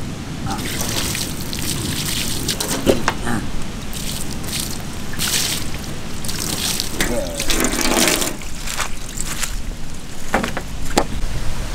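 Running water splashes and trickles steadily, with intermittent scrubbing and sloshing as a black pomfret fish is rinsed under the flow; a voice speaks at times.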